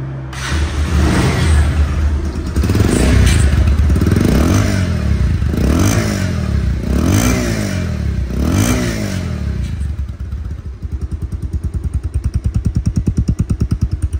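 A 2023 ABS motorcycle engine runs loud and close, with rhythmic revving surges through the first ten seconds, then settles into a steady, throbbing idle.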